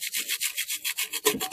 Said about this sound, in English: Take a little wire brush.